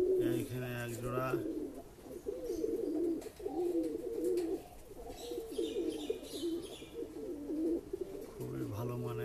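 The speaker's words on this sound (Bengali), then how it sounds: "খুবই ভালো মানের পায়রা।" Shahjahanpuri breeding pigeons, black-green pairs, coo steadily and close by in a throaty rolling rhythm, with someone talking over much of it.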